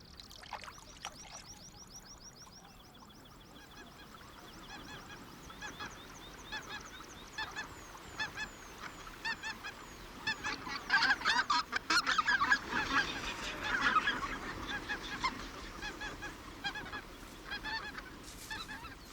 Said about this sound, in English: White-fronted geese are the first to arrive